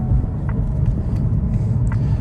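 A 2017 Ford Fusion cruises at normal throttle, its steady low engine and road rumble filling the cabin evenly with faint interior clicks and no talk.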